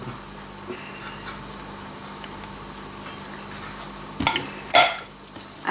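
Shredded coconut and condensed milk being stirred together into buko tart filling, with soft scraping and clinks of a utensil against a bowl, including a couple of louder knocks near the end and no talking.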